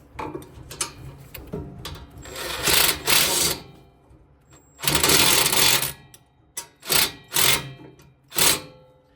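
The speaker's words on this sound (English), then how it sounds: "let me show you how you're supposed to tighten these down" A ratchet wrench tightens a lock nut on an Ariens Deluxe 28 snowblower, heard up close as several bursts of rapid mechanical clicking separated by brief pauses, with no talking.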